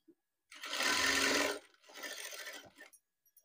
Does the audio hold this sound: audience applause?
no